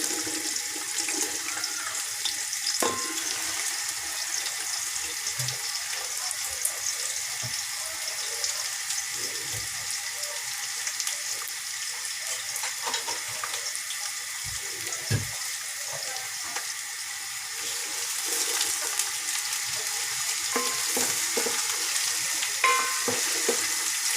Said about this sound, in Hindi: गरम होगा तो फिर प्याज जल्दी फ्राई होंगे।